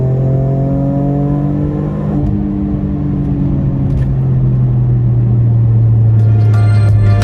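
Alfa Romeo 147 GTA engine heard from inside while driving, a loud continuous deep drone with strong steady harmonics that shift pitch with engine speed, and no talk over it.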